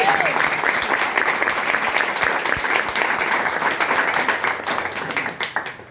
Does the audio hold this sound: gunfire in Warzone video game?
no